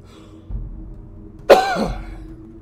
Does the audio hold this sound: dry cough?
yes